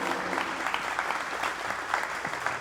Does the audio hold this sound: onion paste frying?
no